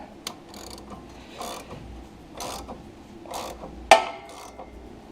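Rusted brake rotor pops loose from the hub with a single sharp crack near the end, preceded by several soft scraping, creaking turns of the rotor in a quiet garage.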